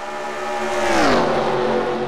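Race car engine in a racing video game at Talladega: a loud, sustained, droning roar whose pitch dips as the car sweeps past, with no talk over it.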